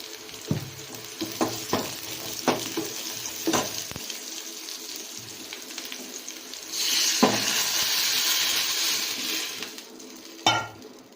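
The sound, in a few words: rasam frying with asafoetida added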